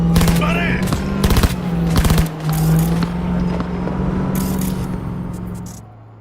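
Rapid bursts of automatic gunfire ring out in Cyberpunk 2077, with loud clustered shots over a steady vehicle engine hum and some background voices.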